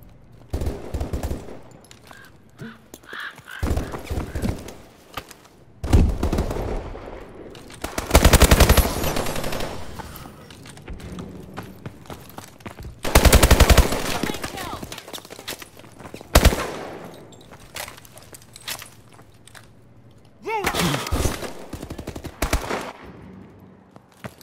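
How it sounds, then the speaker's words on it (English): Gunfire in Call of Duty: Advanced Warfare: repeated automatic bursts and single loud shots break out across a busy firefight, some bursts close and heavy, others quicker and farther off, with game voice chatter mixed in. "I'm taking fire."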